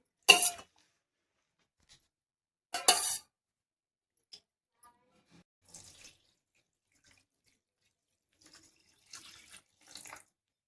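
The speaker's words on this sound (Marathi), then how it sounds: "त्यात थंड पाणी टाकून घ्यायचं आहे." Two short bursts of cold tap water splash over boiled spinach, followed by faint scattered clinks and small splashes in a quiet room.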